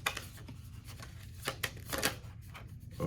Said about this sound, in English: I am getting a card shuffling machine.